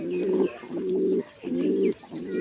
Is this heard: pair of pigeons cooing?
yes